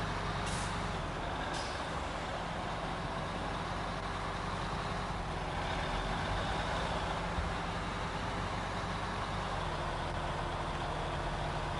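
A heavy truck engine in the SnowRunner game drones steadily for the whole stretch, loud and continuous, with a brief air-brake hiss near the start.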